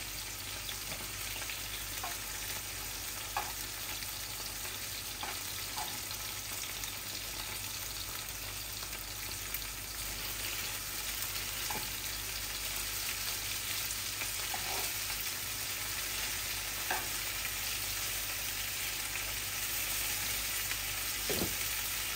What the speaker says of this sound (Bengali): লবণ আর হলুদ দিয়ে মাছটাকে ভাজতেছি ভালো করে।